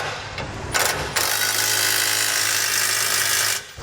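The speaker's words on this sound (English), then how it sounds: "for the nuts here on the back of the hitch, we'll tighten them down using a 3/4 inch socket." A power tool with a 3/4 inch socket spins down the nuts on a trailer hitch receiver on a 2014 Dodge Ram pickup, giving a loud, close, steady buzzing whir after a couple of brief starts.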